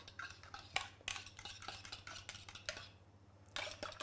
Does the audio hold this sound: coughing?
no